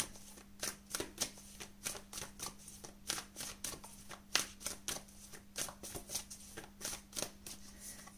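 Tarot or oracle cards for a pick-a-card reading shuffled steadily in the hands, a rapid run of crisp riffling flutters with a faint steady hum beneath, close and fairly quiet with no talking.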